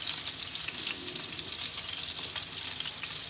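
Scallops sear in a hot pan, a continuous close hiss of sizzling fat that stays steady and even throughout, with no voices.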